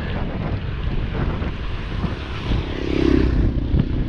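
Strong wind roaring and buffeting the microphone in Taysan, Batangas, a constant rumbling gust that swells briefly near the end.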